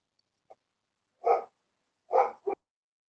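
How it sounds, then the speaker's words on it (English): A dog barking nearby: a faint yip followed by three short, sharp barks, two of them close together near the end, with quiet gaps between. "Dog says you're lying."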